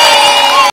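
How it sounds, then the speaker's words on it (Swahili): A large audience cheers and shouts in one loud, dense burst that lasts under a second and then cuts off abruptly. "Naomba jipigieni makofi."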